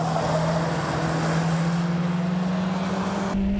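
A Honda Civic powers out of a tight corner on a track, its engine note rising steadily in a loud, continuous close-up drone that cuts off abruptly near the end.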